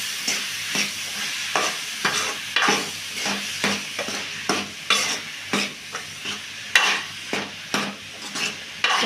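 Spoon stirring boiled cabbage into onion and tomato frying in a pan: steady sizzle under repeated scraping strokes of the utensil against the pan, close and moderately loud, with no talking.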